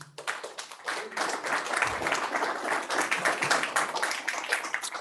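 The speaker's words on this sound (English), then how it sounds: "That deserves applause, people." Applause and clapping from the audience at a town council meeting, starting softly and quickly building into sustained clapping from many hands at moderate volume that continues to the end.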